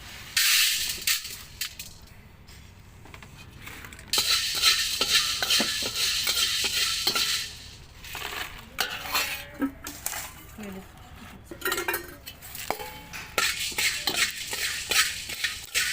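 Cloves and black peppercorns roast dry in a pan, with spices scraped and stirred by a metal spoon in repeated clattering bursts, faint crackling between them and a voice speaking throughout.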